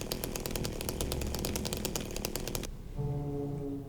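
Loud, rapid buzzing chainsaw from the video game Silent Hill 2 (2024) revs steadily for over two seconds, then cuts abruptly to a lower, smoother idle hum.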